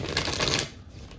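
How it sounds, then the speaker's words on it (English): Tarot cards riffled in a quick, close shuffle, a dense papery flutter that runs for about half a second and then dies away into quiet. "Let's pull some tarot here."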